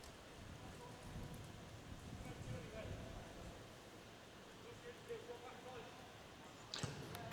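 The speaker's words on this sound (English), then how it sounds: "with the rain coming down like this" Steady rain pours down over an amateur football pitch during a match, a constant hiss filling the whole stretch with faint distant voices and a few brief knocks.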